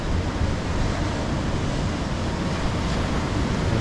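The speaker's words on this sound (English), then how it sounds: "That's the access to the beach." Waves and surf at a beach in Barbados, a steady broadband wash with wind rumble against the microphone, continuous and fairly loud with no voices.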